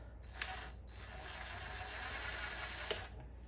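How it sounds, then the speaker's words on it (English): A screw being backed out of a FireKing file cabinet drawer rail with a screwdriver gives a steady mechanical whirring with faint ratcheting clicks throughout, close and fairly quiet, with two brief sharper clicks. "So I'm going to take this screw out first."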